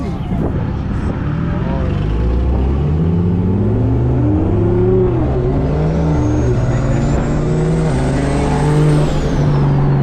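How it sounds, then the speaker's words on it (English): Loud, close engine and turbo noise from a Nissan GT-R, with rising and falling pitch as the car revs and shifts and a whistling turbo spool that climbs late on, while people talk over it. "The turbo sounds crazy."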